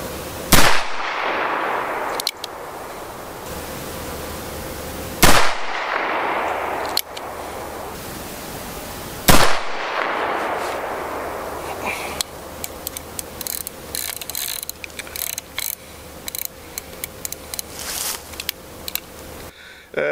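Three loud, sharp gunshots from a black-powder firearm using combustible paper cartridges crack out several seconds apart, each leaving a ringing decay, followed by faint clicks and handling noises.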